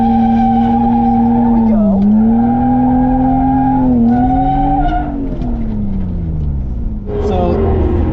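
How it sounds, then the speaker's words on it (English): A rented Lexus IS drift car slides through a drift in Utah, its engine droning loud and steady with a long tire squeal that rises and bends in pitch; someone briefly speaks over it. "Drift it out."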